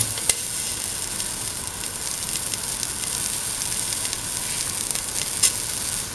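Ginger and shallots sizzling in a pan with a lentil and carrot stew mixture, a loud, continuous, close frying hiss with a couple of sharp utensil clicks.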